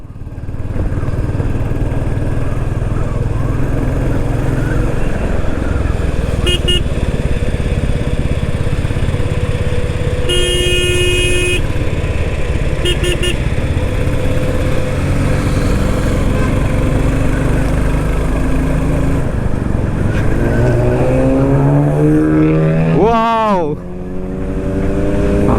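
A Royal Enfield Classic 350 motorcycle, or a vehicle passing it on the road, revs hard under a constant loud engine and wind roar. A rising whine sweeps up sharply near the end.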